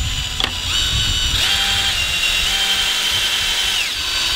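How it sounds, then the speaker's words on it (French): A cordless drill drives screws into spruce wood while a greenhouse tunnel is set up, giving a loud, continuous whine whose pitch rises and falls as the screw bites, with a brief knock near the start. "avec cette percette, on peut directement visser dans le bois d'épicéa"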